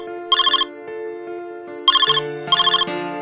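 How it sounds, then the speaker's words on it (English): Phone ringing in the Roblox video game, three bursts of an electronic ringtone trilling over a sustained synth tone, loud and close with no voices. "Just then, the phone rang."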